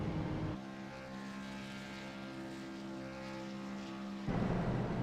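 A small go-kart engine, stalled on track and revving without moving, drones at a steady, high pitch for a few seconds, buzzing evenly without rising or falling, then cuts back to noise.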